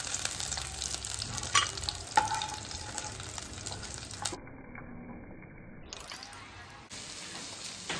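Food frying crisp in a pan, a close, continuous sizzle with bursts of crackling and stirring that drops away for a moment partway through before resuming.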